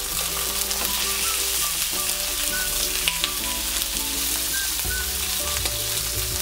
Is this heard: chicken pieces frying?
yes